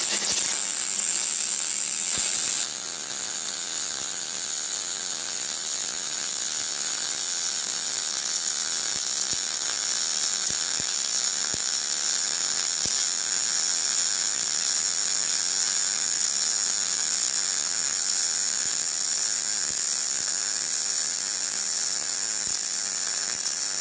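MIG welder laying a bead on a practice joint, a steady close crackling buzz running nearly unbroken, with a brief break early on.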